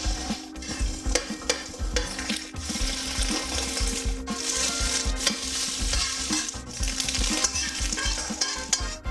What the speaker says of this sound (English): Put those eggs in there.